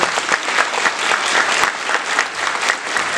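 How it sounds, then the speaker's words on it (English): An audience at a women-in-aviation conference claps for the panel leaders onstage, a thick, continuous round of applause at steady volume from start to finish. "Can I put in a round of applause for our leaders up here?"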